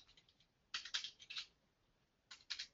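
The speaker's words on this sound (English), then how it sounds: "My typing's terrible this morning." Faint bursts of typing on a computer keyboard, quick clusters of clicking keystrokes separated by short pauses in an otherwise quiet room.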